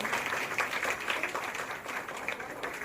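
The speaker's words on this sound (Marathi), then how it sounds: "टाळ्या वाजूयात या सगळ्यासाठी" Sustained applause from an audience at a women's Haldi-Kumkum ceremony for Makar Sankranti, dense steady clapping throughout with faint crowd noise.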